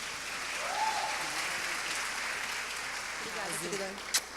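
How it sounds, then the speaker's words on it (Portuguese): An audience at a women's entrepreneurship forum claps steadily for a few seconds, a dense, even wash of applause with a voice rising faintly over it. "Então, uma salva de palmas para a Semaia Oliveira."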